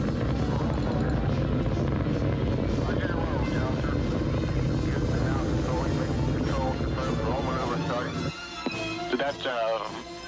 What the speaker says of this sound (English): we have main engine start, and ignition, and liftoff